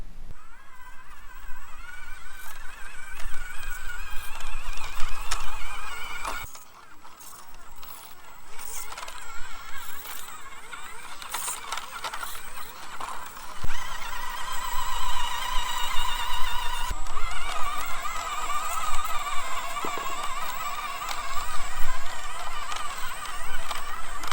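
A 1:24 scale Pinecone SG-2402 RC Land Rover Defender crawls over rock, its small motor whining steadily with shifting pitch and brief pauses, close and moderately loud with no talking.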